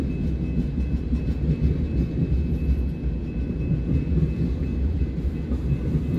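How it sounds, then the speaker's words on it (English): An empty ethanol freight train rolls northbound on the Sioux City sub in Fremont, a continuous loud rumble of wagons passing close by without pause, with a faint steady high tone riding above it. "about to cross Union Pacific Transcon line here in Fremont as it continues northbound with its empty ethanol cars"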